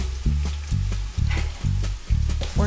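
Butter hits olive oil in a hot pan for clam linguine, sizzling loudly in repeated bursts as it is stirred and worked around, with no talking.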